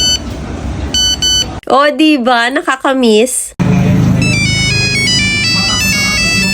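Old backup mobile phone sounding its text alert and ringtone: a bright beeping tone pattern, then a warbling melodic ring, then another chiming tone sequence, loud and close, with a person talking over parts of it.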